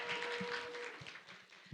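Audience applause welcoming a presenter at a teachers' education research conference, a short, steady burst of clapping from a crowd at moderate volume.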